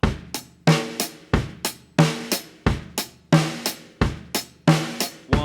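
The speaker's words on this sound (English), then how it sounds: "we can use one hand to play on the hi-hat and on the snare drum" A single hand plays a linear drum beat alternating between hi-hat and snare drum, producing crisp, evenly spaced strikes at a steady moderate tempo with ringing decay, close and alone.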